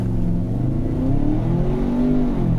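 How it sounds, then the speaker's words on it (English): A Ford Bronco Sport Badlands launches hard in sport mode with traction control off, its engine revving loudly and rising steadily in pitch as it accelerates, heard close from inside the cabin with no talking. "now in the Bronco Sport, as always, launch first, sport mode,"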